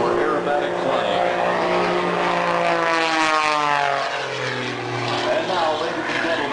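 An aerobatic airplane with a 130 horsepower engine, specially tuned for aerobatic flying, drones loudly overhead at an air show, its engine pitch sliding down and up as it maneuvers continuously throughout.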